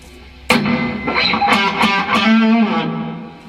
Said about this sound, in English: So that's the kind of reverb I use